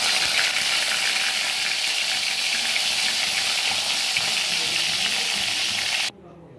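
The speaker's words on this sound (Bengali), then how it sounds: "এবারে চলো মাছগুলোকে ভেজে নিই।" Koi fish fry in hot oil in a wok, giving a loud, continuous crackling sizzle that holds steady and then cuts off abruptly near the end.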